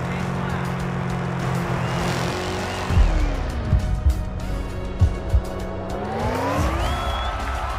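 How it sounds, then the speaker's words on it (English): A fast car in the mobile game Car Parking Multiplayer holds a steady engine whine that drops sharply, then climbs again, with short thumps and tire noise in between, under someone talking. "release the gas pedal because your car is too fast for a 10 seconds class car."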